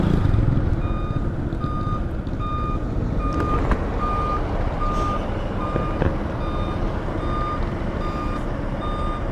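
A truck's reversing alarm beeps steadily and loudly in an even repeating pattern at a road construction site on the Atimonan to Mauban road, over constant engine rumble and dusty outdoor noise.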